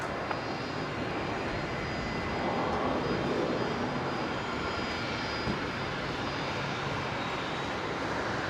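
A Singapore Airlines Airbus A350-900 taxiing at Brisbane airport, heard as a steady distant jet engine roar that swells slightly midway, a broad continuous rumble with no voices over it.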